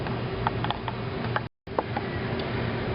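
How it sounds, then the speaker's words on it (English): A second hose clamp is tightened onto a leaking coolant hose on a 1999 Mercury Grand Marquis, giving a steady run of close mechanical clicking and ratcheting, broken by a brief silence halfway through. "installed an additional hose clamp right above it"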